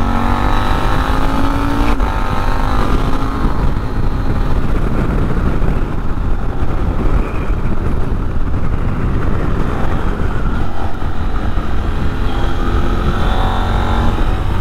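A KTM 890 Adventure motorcycle rides along at steady speed, its engine drone loud and close beneath heavy wind rush, with slight shifts in pitch as the revs change; no talking.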